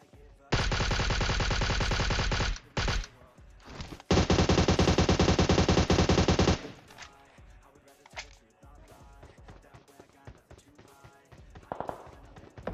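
Rapid automatic gunfire from PUBG Mobile, with two long sustained bursts of loud, dense shots and scattered single shots and distant cracks after them.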